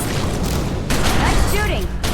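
Gunfire rattles through a fight in The Secret World, a loud, continuous volley with heavy low thuds that swells partway through while voices call out over it.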